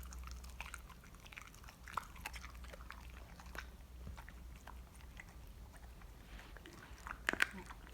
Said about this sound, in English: Chew, Ryu.